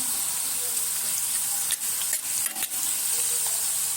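Potatoes roasting in a pan for batata poha make a steady hiss of frying, broken near the middle by a few brief stirring scrapes. The sound is close and even, and no one speaks.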